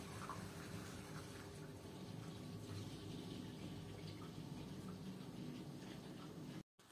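Faint, steady trickle of water draining through an insulated pipe, a muffled continuous wash with low rumble, uninterrupted until a brief cutoff near the end.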